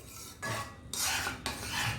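A spoon stirs melon seeds through tangy tamarind chutney in a pan, making several scraping, rasping bursts against the metal separated by short pauses, close and moderately loud with no talking.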